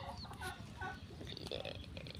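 Faint, distant turkey gobbling and clucky poultry calls come in short bursts over a soft background.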